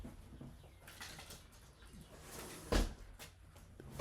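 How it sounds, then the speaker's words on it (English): A window is pulled shut indoors, producing one short, sharp thump midway through, against a steady hiss of room noise with faint outdoor bird sounds around it. "Let me close my window."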